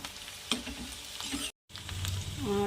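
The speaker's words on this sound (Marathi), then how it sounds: "भाजायचं बेसन खूप बढिया छान स्लो आचेवर" Gram flour roasts in oil over low heat for a savoury zunka dish, a soft steady sizzle with a few spoon scrapes, briefly cutting out before the frying hiss resumes.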